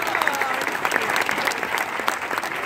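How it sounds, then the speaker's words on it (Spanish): Sustained audience applause at a stand-up comedy show, dense and steady throughout with crowd noise mixed in, honoring Mario. "Ese aplauso que sea para Mario."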